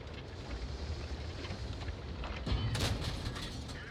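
A tank shell glances off armor in the World of Tanks video game, the ricochet landing as a loud metallic crack and ring midway through a steady rumble of engine and battle noise.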